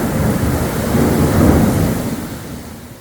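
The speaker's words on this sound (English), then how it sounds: "While we were exploring, a thunderstorm moved in. The lightning strikes were very close by." A thunderstorm in Taiwan or Thailand brings a close, heavy roll of thunder over pouring rain. The rumble swells loud, peaks mid-way, then fades into a continuous wash of rainfall.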